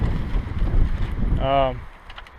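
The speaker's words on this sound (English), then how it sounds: "You can see we're pretty windy today." Gusty wind buffets the microphone with a low, uneven rumble, and a voice briefly cuts through near the end.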